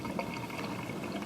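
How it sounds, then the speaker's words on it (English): Hot water runs steadily from a tap in a house interior, a continuous close hiss and splash with no voices. "Hot water."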